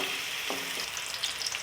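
Onion dropped into hot oil for a chicken vegetable rice dish, giving a soft, steady sizzle with a brief stir, faint and without voices.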